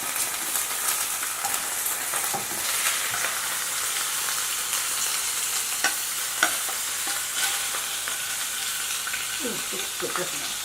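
Salmon sizzles steadily in a frying pan over a gas flame. A dense, continuous hiss and crackle holds throughout at a fairly loud, close level, with occasional sharper pops.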